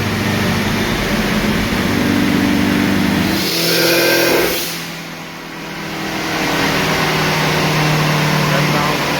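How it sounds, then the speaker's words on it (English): On a dyno, a turbocharged car's engine revs steadily and loudly, swells into a brief rising surge as it comes into boost, then dips and settles back into a sustained drone. "sounds aggressive as it comes into boost."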